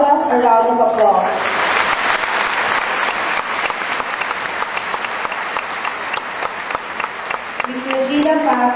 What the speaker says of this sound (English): Let us give Ms. Gina Lopez, Doctor of Humanities, honoris causa, a round of applause.